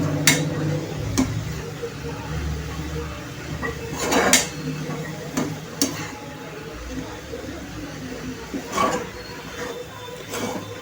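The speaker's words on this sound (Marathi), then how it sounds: "आता आपण ह्याला मिक्स करूया छानपैकी।" Kardai bhaji (safflower greens) with soaked peanuts and chana dal stirred in a pot, with intermittent clanks and scrapes of a spoon against metal over a low steady background.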